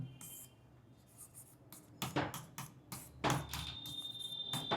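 Chalk or marker writing on a classroom board during a biology lesson, quiet scratchy strokes coming in short bursts with pauses between, faint and close.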